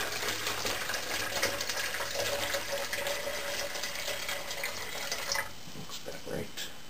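Salt water is poured to fill a homemade capacitor, giving a soft steady trickle and splash close by at low level, with faint clinks near the end.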